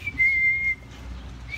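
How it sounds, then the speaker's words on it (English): A person whistles a single steady, drawn-out note that cuts off abruptly, followed by a quieter short whistle at the end, close by over a low background rumble. "just whistling to my brother"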